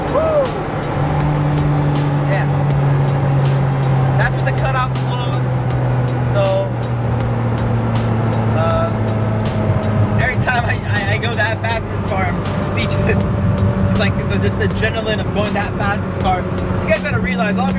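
A BMW E30 fitted with an S54 engine, exhaust cutout closed, holds a steady low exhaust drone with shifting engine tones for the full length, mixed with road noise and some clicks.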